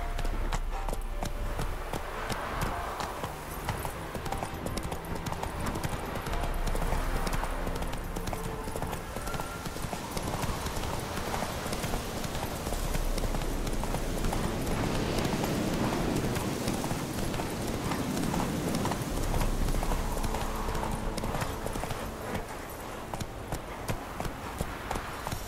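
Roach the horse trots through The Witcher 3 Wild Hunt game world, its hooves clip-clopping in a steady, continuous rhythm for the whole stretch, loud and close. A faint background of game ambience sits beneath the hoofbeats.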